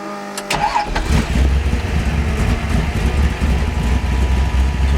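A 450-horsepower V8 in a Ford Pinto cranks and fires within the first second, then settles into a loud, steady, lopey idle with a deep rumbling pulse.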